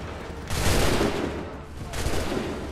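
Musket volley fire in Assassin's Creed 3, a dense, roaring burst of many shots rising suddenly and sustaining loud and close, followed by a second swelling wave of crackling gunfire.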